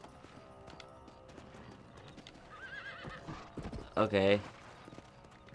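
Horse hooves clopping in the video game Red Dead Redemption, a steady rhythmic gait under game music and ambience, with a horse whinny and a loud burst near the end while someone talks.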